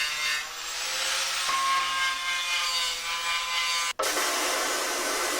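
Metal on a Talbot Express camper van being cleaned back to bare steel before welding to strip paint: a steady, loud abrasive rasping that runs continuously, with one brief dropout near the end.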